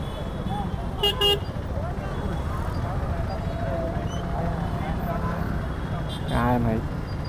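Road traffic rumbles steadily during a motorbike ride, with short car horn toots sounding twice, one early and one near the end, while people talk over it.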